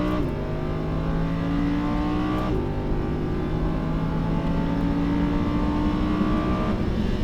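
A Lamborghini Huracán accelerates hard on the Fay de Bretagne race track, its loud, steady engine note climbing in pitch, dipping briefly at a gear change, then rising again. No voices are heard.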